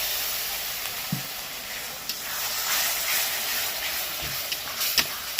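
Ground spice paste with Kashmiri chilli powder and a little water sautés in a pan, a soft steady sizzle and hiss with a few faint knocks of stirring.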